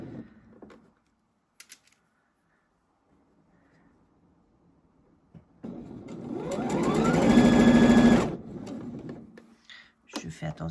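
A sewing machine runs a seam on a tank top in one sustained burst of a few seconds, its whirring motor rising then stopping, with quiet handling noises and brief clicks before and after.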